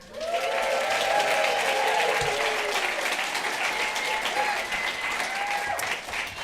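Dense, steady audience applause at an evening fireside reading event, loud and sustained throughout with a few faint cheers rising above the clapping.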